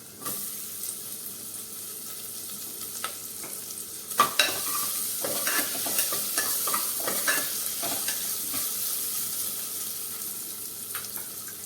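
Hot oil sizzles steadily while a spoon scrapes and stirs potatoes into hot tempering in a pan for sabudana khichdi, with clinks and scraping bursts throughout.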